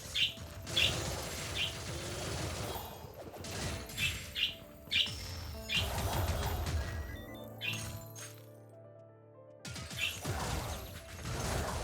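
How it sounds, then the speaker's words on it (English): Excited birds chirp in the video game Wizard of Legend, bright repeated tweets scattered across a busy mix of clanking game effects and crashes, with a brief lull before the chirps return. "And we still have excited birds."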